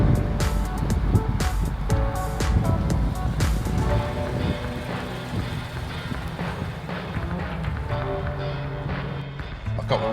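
A supercharged Subaru BRZ/86 driving on the road, with a steady engine note, road roar and wind noise heard from inside, and loud irregular clicks and knocks over the top.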